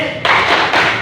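A sixth-grade elementary class at SD Negeri B performs its unison rhythmic clap chant, a burst of dense, loud clapping that starts abruptly and holds with a brief dip midway.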